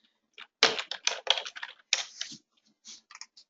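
Keys clatter on a computer keyboard in quick irregular bursts, a flurry of close, crisp clicks followed by a pause and a few lighter taps near the end.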